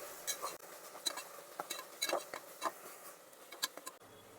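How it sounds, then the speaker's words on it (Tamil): Soya veg biryani masala with coriander and mint leaves being stirred in a pan, giving soft irregular scrapes and light metallic clinks of a spoon against the vessel, close and quiet. "இப்போ இதை நல்லா கிளறி விடணும்."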